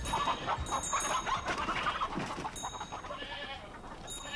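Chickens cluck and chatter in a Swiss German radio play, a dense, continuous clucking that is close and steady, with a thin high tone toward the end.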